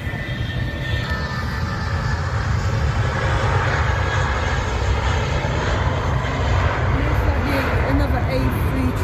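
Jet airliner engines roar steadily at Heathrow airport, a loud continuous rumble that swells slightly as planes pass, with people talking faintly underneath.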